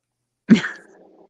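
A person imitates the guttural cough of the Three Amigos salute, one sharp throaty burst that trails off into a short rasp, close and alone.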